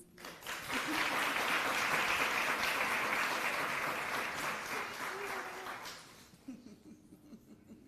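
Broad audience applause fills a city council special meeting, rising quickly and holding dense and steady for several seconds before fading out near the end, with faint voices underneath.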